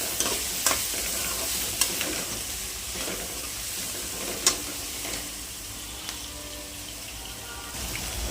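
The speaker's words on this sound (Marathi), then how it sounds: "कांदा घातला फ्राय करायला। कांदा पण फ्राय करून घेऊया चांगला।" Onion sizzles in an oil tempering with mustard seeds for a fenugreek and green pea bhaji, a constant close crackle with a few sharp stirring clinks and no talking.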